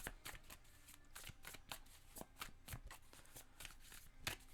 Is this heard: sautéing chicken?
no